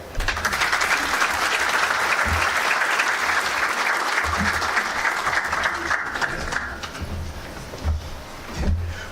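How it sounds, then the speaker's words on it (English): Sustained audience applause at the 10th annual Don Mkhwanazi lecture, a loud, dense roar of clapping that runs for several seconds, then thins out into scattered claps near the end. "that deserves another round of applause"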